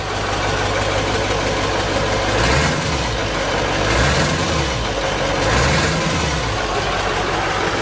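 A 7.3 Powerstroke diesel engine runs in a 1972 Mitchell motorhome, a loud, steady rumbling clatter close by with a few throttle blips that swell and fall in pitch.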